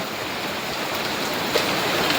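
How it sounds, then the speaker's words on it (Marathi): Heavy rain pours down in a steady, even hiss with a light, continuous wash of drops and no voices. "एकदम खतरनाक पाऊस आलो इकडे"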